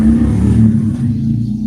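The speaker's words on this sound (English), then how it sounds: "A very loud motorcycle." A very loud motorcycle passing outside, its deep engine rumble sustained and steady throughout, heard alone with no talking.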